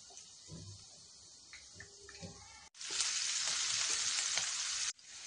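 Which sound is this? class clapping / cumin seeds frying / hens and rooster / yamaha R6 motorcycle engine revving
cumin seeds frying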